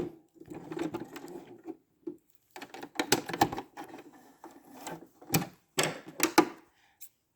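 A sewing machine back stitching a round scrunchie fabric bin, bursts of rapid mechanical stitching broken by short pauses, close and clear with no talking.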